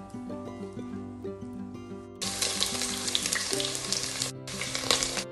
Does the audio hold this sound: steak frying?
yes